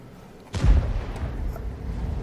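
A 17cm howitzer fires once in a World of Tanks-style tank game, a single loud boom with a rumbling tail that lingers over a low background.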